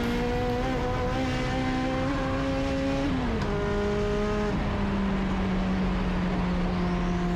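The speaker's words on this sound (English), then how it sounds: "the car was lean popping pretty bad on upshifts" A race car engine at Mosport drones loudly at steady pitch, with the tone dropping abruptly at gear changes, accompanied by faint lean popping on upshifts under the continuous engine noise.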